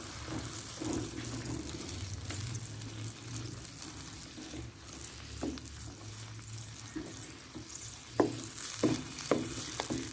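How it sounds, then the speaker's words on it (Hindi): Chicken karahi with yogurt and cream cooks in a pan, a soft steady sizzle under occasional scrapes and clinks of a spoon as it is stirred continuously. "अब आंच थोड़ी तेज़ करके और इसमें मुसलसल चम्मच हिलाते हुए ताकि दही फट ना जाए हम पकाएंगे इसे"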